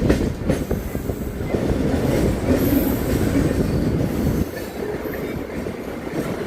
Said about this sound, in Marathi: express train, Humsafar express